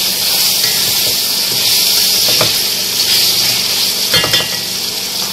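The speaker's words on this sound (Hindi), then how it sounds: "इसको बस 3 से 4 मिनट इन सब चीज़ों को डाल के हम फ्राई करेंगे।" Whole spices and tomato fry together in a pan for chicken khada masala, a loud continuous sizzle with crackling bursts and soft stirring scrapes, close and steady throughout.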